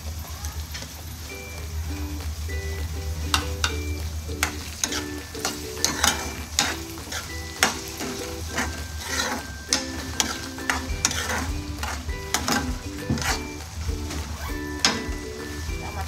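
Chopped tomatoes sizzling in a pan of onions for kanda poha, a steady crackling fry under repeated scraping and tapping of a spoon stirring, close and continuous with a low hum beneath.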